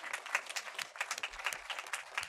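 An audience at a school district board meeting applauds the student of the year, a dense patter of many hands clapping at moderate distance, steady and fairly quiet throughout.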